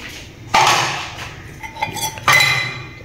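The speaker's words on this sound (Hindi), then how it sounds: "बर्तन सिंक के पास ले जाते हैं।" Dishes and cutlery are gathered and carried to a kitchen sink, with a few loud ceramic clatters and metallic clinks at close range separated by quieter handling noises.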